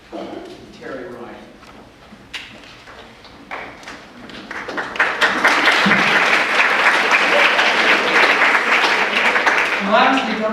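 Audience applause in a chapel, starting as scattered claps and thickening into loud, sustained clapping from about the midpoint, with some murmuring voices mixed in.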